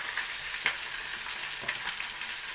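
Chopped onions sizzle steadily in a pan for chicken curry, alongside coconut pieces already browned, with a constant close hiss and a few soft stirring clicks.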